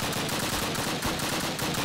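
Rapid automatic gunfire from the video game Call of Duty: United Offensive, a dense, continuous rattle of shots that is loud and unbroken throughout.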